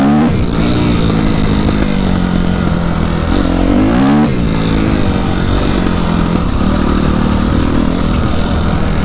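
A Suzuki RM-Z 250 dirt bike engine revs loudly and close by, its pitch rising and falling repeatedly as it accelerates and eases off.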